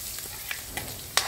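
Garlic sautéing in cooking oil in a pan for shrimp in coconut milk, a soft steady sizzle with a few brief scrapes and clicks of stirring.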